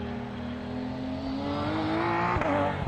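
A BMW M4 GT3 Evo race car engine drones steadily at an endurance race on a circuit, its pitch climbing as it accelerates, then a sharp blip near the end, with no talk.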